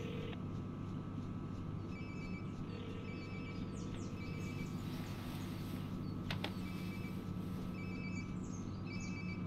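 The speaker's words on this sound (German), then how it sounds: "It sounds like my phone is definitely nearby." Phone ringing nearby in the video game Life is Strange: Before the Storm, a faint repeating electronic ring pattern over a steady low ambient hum, recurring at regular intervals, with no talking.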